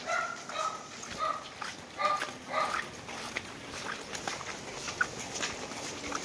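A dog barking and yipping outdoors along a wet, muddy path at dusk, a few sharp barks early then quieter whimpers with footsteps moving through the wet ground.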